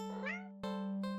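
A stray cat gives a short rising meow followed by two brief, tonal mews in quick succession, close and clear against a steady low hum.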